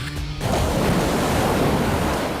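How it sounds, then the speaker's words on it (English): A big ocean wave crashes in with a sudden loud roar of broadband surf and spray that stays heavy and sustained, close by and drowning out everything else. "Oh my God, big wave."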